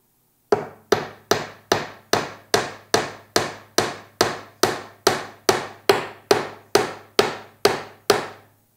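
Nails hammered into a wooden birdhouse: about sixteen sharp, evenly spaced hammer strikes ringing out close and loud in a steady rhythm, each one decaying quickly before the next.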